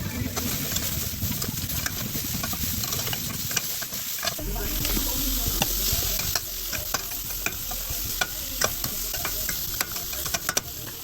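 Fajita vegetables sizzle loudly in an oiled pan while being stirred, with a constant crackling fry broken by repeated scraping and clacking strokes of the utensil, close and unbroken throughout.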